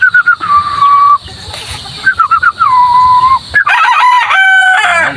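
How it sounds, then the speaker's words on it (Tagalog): A rooster, a two-month-old straight-combed bird on a free range, crows in two long drawn-out calls, loud and close, and other fowl call sharply near the end. No one speaks. "Yan, tumilaok pa mga katitik."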